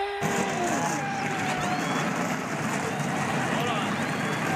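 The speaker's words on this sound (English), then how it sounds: "gentlemen, start your engine!" Race car engines roar to life for a NASCAR-style Cup Series start at Kansas Speedway, a dense, loud, continuous rumble with rising whining revs layered on top.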